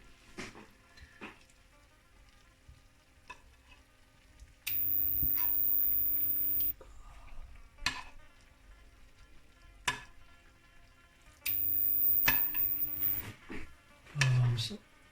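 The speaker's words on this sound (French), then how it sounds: "D'abord, on va arroser les pommes de terre." Potatoes are basted in a sizzling Soussi-style lamb tajine with vegetables. Quiet frying crackle is broken by two louder bursts of sizzling as liquid is spooned over, with a person talking in between.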